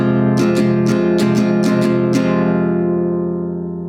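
Acoustic guitar strumming the chord pattern of a song with one extra upstroke, a quick rhythmic run of strokes on a sustained chord that then rings and slowly fades, close and alone.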